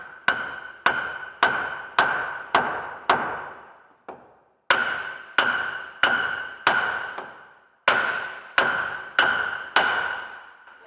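Hammer blows tapping a wooden beam through a boat hull under construction: about fifteen sharp, evenly spaced knocks in three runs with short pauses, close and loud, with no talking.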